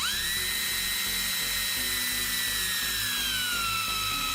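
A high-pitched drill whines steadily at close range, drilling holes into an X-Wing Miniatures Jumpmaster 5000 model, its pitch sagging slightly as it bites into the material, with no talking.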